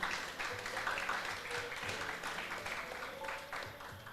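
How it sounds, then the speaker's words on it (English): Audience applause at a closing ceremony for a regional sports challenge, steady broad clapping from a crowd with a faint voice over a PA underneath, sustained for the whole stretch. "Give them a round of applause for that."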